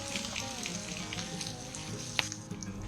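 Apple chicken sausage sautés in a pan next to butternut squash, giving a soft, even sizzle with faint popping and one sharp crackle near the end.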